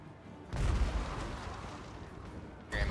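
Artillery fires during a Total War Warhammer battle between Dawi and Skaven: two deep, booming impacts land about two seconds apart over a low, steady battlefield rumble, both fairly faint and distant.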